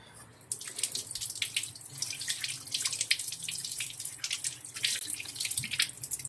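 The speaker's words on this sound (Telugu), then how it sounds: "ఈ గుమ్మడికాయను ఇప్పుడు కడిగేసుకున్నాము." A pumpkin is rinsed under a running kitchen tap, with steady splashing and trickling water and occasional drips close by, continuous for several seconds with no talking.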